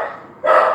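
A pet dog barks at someone arriving at the front door of a home, a short, close, loud burst rising after a quieter moment.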